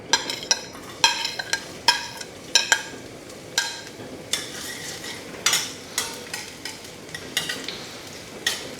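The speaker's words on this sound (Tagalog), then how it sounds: "Gisa na natin ang ating bawang." Garlic sautéing in olive oil in a hot pan, a soft sizzle broken by regular scraping strokes of a utensil against the pan, close and without talk.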